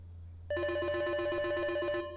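A telephone in a horror video game rings with a bright electronic trill that starts abruptly, holds for about one and a half seconds, then cuts off in a quiet room.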